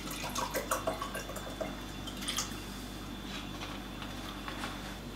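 Water trickles and drips steadily into a container, about 100 grams poured, close by, over a soft continuous hiss with no voices.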